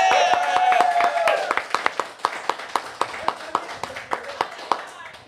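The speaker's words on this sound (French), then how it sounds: "Je vous demande de faire un tonnerre d'applaudissements pour notre invité, Monsieur Sébastien Lastou." A studio audience applauds to welcome a guest onto the show: a voice briefly overlaps the start, then steady, evenly spaced claps ring out in a rhythmic beat for several seconds.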